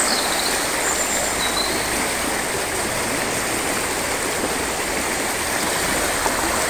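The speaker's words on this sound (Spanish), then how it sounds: "Asturias, un río guapísimo." A river in Asturias rushes continuously, a loud, steady broadband flow of water close by, alone with no voices throughout.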